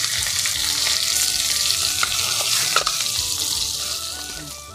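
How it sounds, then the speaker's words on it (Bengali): Fish frying in oil in a steel wok at home makes a loud, continuous crackling sizzle up close, with a brief clink near the end as the pieces are lifted out. "মাছটা এখন তুলে নিচ্ছি।"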